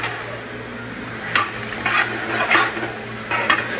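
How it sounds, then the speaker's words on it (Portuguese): Crushed garlic sautéing and being stirred in a pan, with a steady low sizzle broken by four short scraping bursts from the stirring utensil, close up with no voices. "E o alho batido já aqui, ó. Vamos colocar aí, dar uma refogada aqui."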